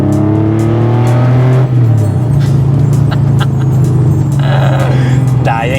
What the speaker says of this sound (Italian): proprio quel suono lì delle vecchie Porsche che è incredibile